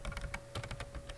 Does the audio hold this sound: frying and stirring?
no